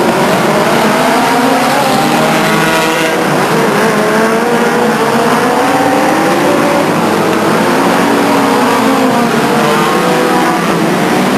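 Legends race cars lapping the Stockton 99 Speedway oval, engines roaring loud and continuous as they battle down the backstretch, with rising and falling pitch from several cars in close pursuit.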